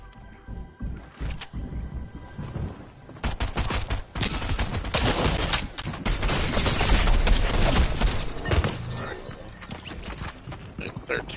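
Shotgun and other weapons firing in a video game, a long stretch of rapid, crackling shots that builds into a dense, loud barrage, with players talking over parts of it.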